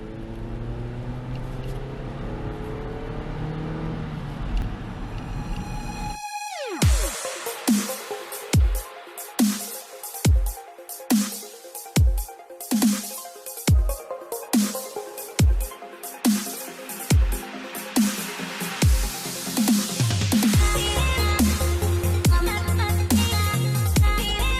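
A Mazda 6 under hard acceleration: a rising engine tone in the first few seconds, then a regular series of sharp rhythmic pulses, and a louder sustained engine roar toward the end.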